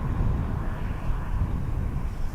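An aircraft approaches Dublin Airport, a steady low engine rumble with broadband roar and some wind buffeting, fairly distant and without talk.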